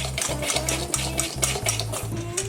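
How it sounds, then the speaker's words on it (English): Unsweetened Ghirardelli cocoa powder and other dry ingredients are whisked in a bowl, a quick rhythmic scraping and tapping of whisk against the bowl about three strokes per second, close and steady with no voices. "Whisk this all together."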